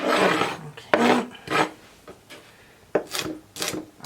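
A stainless steel chef knife from an AIOCK six-piece set slices through celery, making a series of crisp, crunchy rasping strokes at close range with brief pauses between cuts and no talking.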